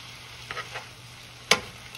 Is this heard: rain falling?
no